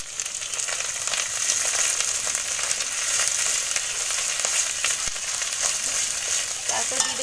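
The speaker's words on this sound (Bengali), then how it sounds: "এবার একটু কষিয়ে নেবো।" Cumin paste sautéing in hot oil in a pan, a steady close sizzle with light stirring scrapes throughout, no voices.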